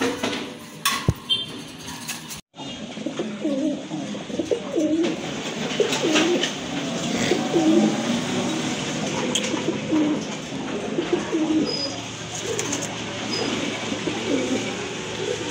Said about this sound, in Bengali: খুবই সুন্দর এক জোড়া রাজগোল্লা কবুতর